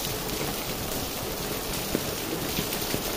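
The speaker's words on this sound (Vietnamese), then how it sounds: "Lúc này bên ngoài trời đang mưa." Steady rain pours down outside the Chợ Lớn market in Vietnam, an even, close hiss of drops with a few louder splats on surfaces and no talking.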